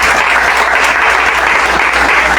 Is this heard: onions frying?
no